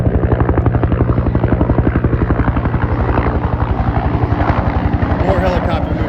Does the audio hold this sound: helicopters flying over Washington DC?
yes